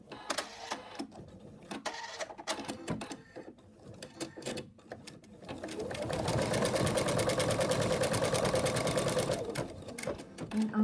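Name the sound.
embroidery machine stitching out a placement line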